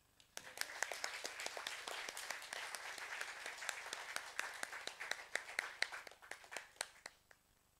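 A modest audience claps to welcome a professor to the stage, distinct individual hand claps forming a quiet, uneven patter that thins out toward the end.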